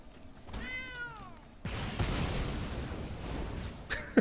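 A cat's drawn-out meow rings out clearly from the Magic Arena card game, followed by a burst of dense noise that runs to the end of the clip, with no talking.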